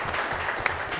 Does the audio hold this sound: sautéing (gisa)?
no